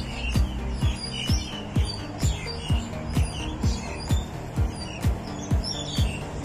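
Birds chirping high overhead, a steady run of short, sharp calls repeating roughly every half second, fairly close and loud, with no talk over them.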